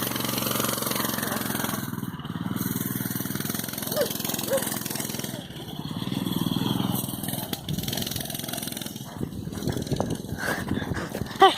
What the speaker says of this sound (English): he's gonna be riding this mini bike